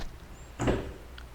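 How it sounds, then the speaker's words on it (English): The driver's side door of a 2017-2018 Hyundai Elantra opens with a single brief mechanical clunk, close and fairly soft against quiet surroundings. "First, open the driver's side door."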